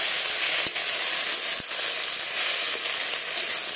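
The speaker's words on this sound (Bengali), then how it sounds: "তো এবার এর মধ্যে দিয়ে দিব আমি টমেটো কুচি। একটু নাড়াচাড়া করে নেব।" Chopped tomatoes sizzle loudly in a hot pan with fish and gourd stems, a dense continuous frying hiss with a few soft stirring knocks, close up and without speech.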